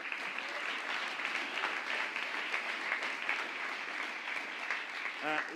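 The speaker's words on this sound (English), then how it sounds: "Round of applause for them." Audience applause at the BAFTARs 2016 student awards evening, a sustained wash of many hands clapping at moderate distance, steady throughout with a brief voice near the end.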